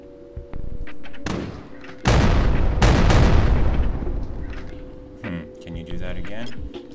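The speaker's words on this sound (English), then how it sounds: "Three round air burst." A three-round air burst weapon fires in the UFO: Alien Invasion game, with heavy booming blasts that land close and loud in quick succession, each one followed by a long rumbling decay, while a player's voice talks over the action.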